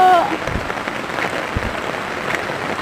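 Heavy rain pours down in Butong City, a dense, continuous hiss of drops drumming on surfaces close by, with a voice speaking briefly over it.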